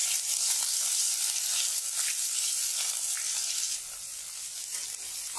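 Thinly sliced onions and green chillies fry in hot oil with crackled cumin seeds, a dense, loud, unbroken sizzle heard up close that eases slightly near the end, with no speech.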